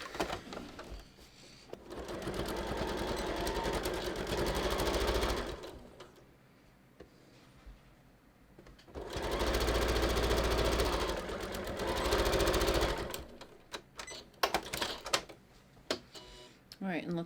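A sewing machine stitches a non-stretch cover for a DittoForm dress form in long runs of fast, even mechanical whirring, broken by quieter pauses and a few short bursts near the end, close by.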